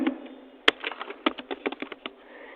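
Rapid keystrokes on a computer keyboard, entering an email address into a mail merge form, come as an uneven burst of close, crisp clicks with short pauses, with no voice.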